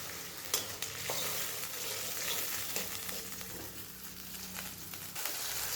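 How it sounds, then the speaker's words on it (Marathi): Sugar and water stirred into a hot spice tempering in a pan, a steady close sizzle with scraping stirring strokes and a few sharper clicks of the spoon, no voices. "फोडणी व्यवस्थित अशी हलवून घ्यायची आहे"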